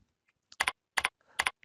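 Keys on a computer keyboard clack out label text in three quick, crisp paired strikes, close and isolated against near silence.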